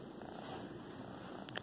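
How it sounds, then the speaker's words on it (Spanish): A cat purrs steadily while being petted, a soft continuous rumble close to the microphone with no talking. "Cuando el gato se deja ronronear."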